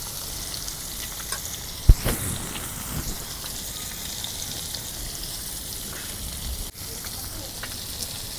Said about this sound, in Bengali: এখন দেখো আমি কি সুন্দর করে মাছগুলো ভাইজা নিতেছি